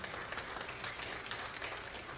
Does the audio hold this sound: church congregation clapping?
yes